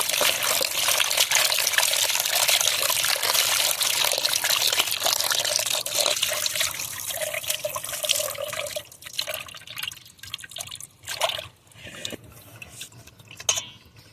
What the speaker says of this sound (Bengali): এখন মাছগুলো আমি পরিষ্কার করে ধুয়ে নেব